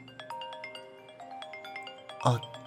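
A phone ringtone plays a repeating electronic melody of bright tonal notes, steady and moderately close, with a brief louder rustle near the end.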